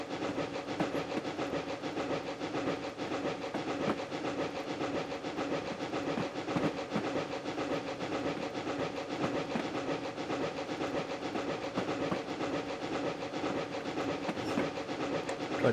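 A GWR steam railmotor runs along 1950s Riviera rails in Train Simulator, giving a steady, continuous rumble with faint rhythmic clatter at an even level throughout.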